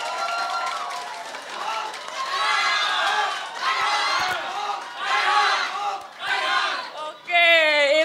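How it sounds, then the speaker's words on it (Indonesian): Supporters of Basuki Tjahaja Purnama (Ahok) cheer and shout at a televised talk show, a loud sustained crowd roar that rises and falls in waves, with a brief burst of whistling or whooping near the end. "itu dia suara pendukung dari Pak Ahok"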